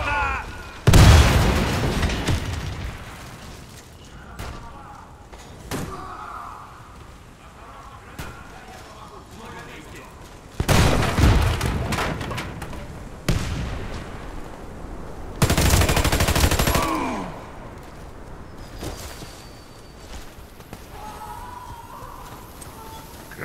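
Grenade blasts and gunfire ring out in a Warface ranked PvP match, several sharp loud explosions spaced seconds apart among bursts of rapid shots, with brief voice callouts over the action.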